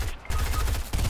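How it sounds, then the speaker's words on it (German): Gunfire in a Fortnite match, a short burst of rapid, close, loud shots after a brief quiet moment. "die schießen auf uns"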